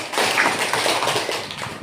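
A classroom of third-grade children claps together for a group of classmates, a dense, fast, continuous patter of many small hands, loud and close, filling the room without a break for almost two seconds.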